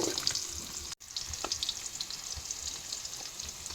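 Onions frying in oil for a murungai keerai varuval, a soft continuous sizzle with a faint stirring scrape and one brief dropout, heard alone and close.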